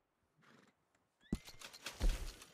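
A horse neighs loudly in Red Dead Redemption 2, a sharp whinny rising after a quieter stretch of faint sounds, with rumbling low thuds beneath it.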